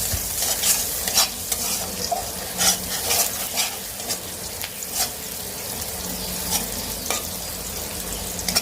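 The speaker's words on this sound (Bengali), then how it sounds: "পেঁয়াজটা একটু লাল লাল করে ভেজে" Onions fry in a pan with a continuous crackling sizzle, while a spoon or spatula scrapes and stirs in irregular bursts; close and moderately loud, with no talking.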